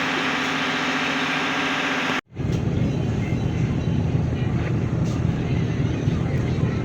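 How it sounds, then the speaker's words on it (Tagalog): A ferry's engine drones heavily as the ship gets under way toward Cebu, a loud low rumble with wind buffeting the microphone, cut by a brief dropout and then continuing. "Andar na po yung barko."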